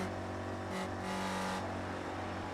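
Race car in a sim racing game at Bathurst climbing toward Dick Smith corner on Skyline, the engine drone easing as the driver lifts off throttle and the car settles, steady and loud with no talk.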